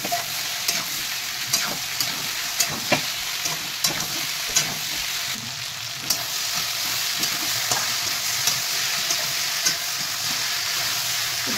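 Boiled taro pieces fry in hot oil with already-browned onion and tomato, a steady close sizzle broken by regular clinks and scrapes of a spoon stirring the pan.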